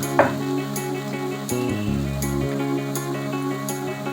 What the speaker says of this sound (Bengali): এবার আমি এগুলো উল্টে দেবো